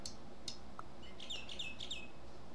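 Cartoon bird effect in the pet auto-battler Super Auto Pets, a few short bright chirps and tweets in a quick cluster, close and clear over faint background music.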